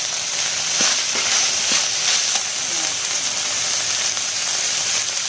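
Minced keema frying in a pan, a loud continuous sizzle and hiss close by with a few faint clinks, and no talk.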